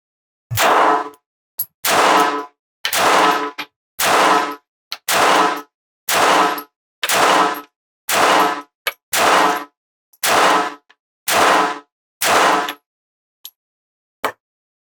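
A Smith & Wesson Bodyguard 2.0 compact .380 pistol fires about a dozen evenly paced shots at an outdoor steel target, each a sharp, loud crack with a metallic ring, spaced roughly a second apart with no talking.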